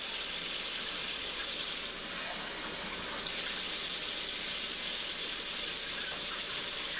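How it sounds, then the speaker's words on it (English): Steady broadband rush of warm water pouring from a tap, continuous and close, with no voices. "I'm running some warm water right now."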